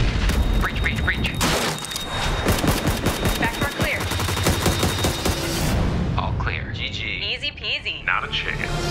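A frag grenade blast and bursts of gunfire in PUBG, loud and close: dense rapid shots and booms filling most of the stretch before cutting off, with someone speaking over the action.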